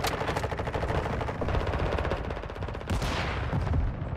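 Sustained automatic gunfire from Call of Duty: Modern Warfare 2, a dense, loud stream of rapid shots running almost the whole time with a brief break near the end.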